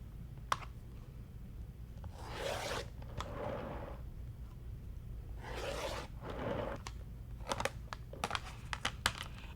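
Layer cake fabric squares are cut against a ruler, with two long swishing cuts, light taps and clicks of the ruler and tool, and brief rustles close by in a quiet room, no voices.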